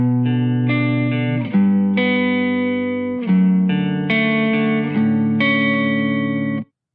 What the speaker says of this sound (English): All right, so that was the real guitar loop